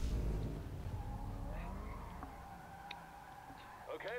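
A car drifts with skidding tires in the Need for Speed (2015) racing game, a steady engine roar under a smeared screech of rubber, with a faint voice mixed in.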